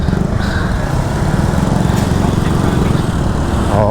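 A Suzuki Burgman Street 125 scooter engine drones steadily and close while riding at night, a continuous buzzing hum that holds level throughout with a faint voice briefly underneath.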